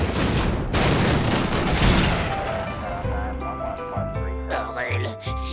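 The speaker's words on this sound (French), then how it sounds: "pourquoi t'as tout fait exploser?" An explosion goes off in a Les Dalton cartoon, a loud rattling burst of crackling blasts for the first two seconds that fades as musical tones and voices take over.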